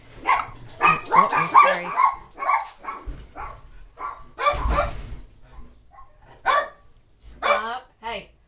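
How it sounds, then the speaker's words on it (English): Dog barking indoors in a kitchen, sharp repeated barks and yips in uneven bursts close by, with a person speaking briefly between them. "Hey, don't bark in the house."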